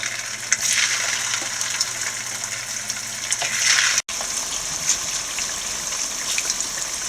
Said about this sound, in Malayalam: മാറിനേറ്റ് ചെയ്ത് വെച്ച ചിക്കൻ എണ്ണയിൽ വറുത്ത് എടുക്കാം